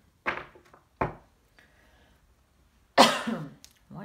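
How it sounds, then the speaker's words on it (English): Three separate coughs, two short sharp ones close together and then a louder, raspier one, with quiet pauses in between. "What is up with this cough?"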